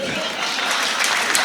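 An audience at a Hindi poetry recital (kavi sammelan) breaks into applause, a dense, even wash of clapping that holds steady and swells a little toward the end.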